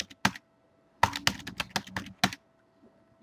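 A username and password tapped out on a computer keyboard, a few separate close keystrokes, then a quick irregular burst of clicks with short pauses in a quiet room.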